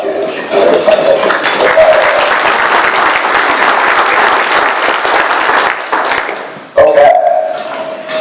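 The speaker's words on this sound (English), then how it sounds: "a round of applause for the Dallas Jewish Community Foundation" Sustained audience applause at a professional advisors seminar for a Jewish community foundation, a loud, dense clapping crowd lasting several seconds, dipping briefly before a final burst.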